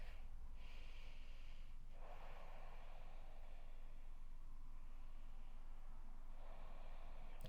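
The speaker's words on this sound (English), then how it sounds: "Breathing." Soft, airy inhales and exhales of a person breathing during a yoga flow, several slow breaths that are quiet and close against a low background hiss.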